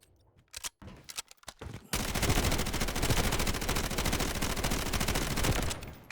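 An automatic rifle in the video game Delta Force fires a sustained, loud, rapid burst of shots after a few scattered single clicks and brief pauses.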